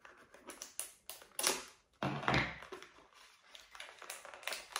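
Scissors snip through tape on the packaging of a Sylvanian Families Deluxe Celebration Home toy set, giving a run of close, crisp cuts and rustles in uneven bursts, with a louder tearing stretch in the middle.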